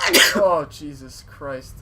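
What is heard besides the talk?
sneeze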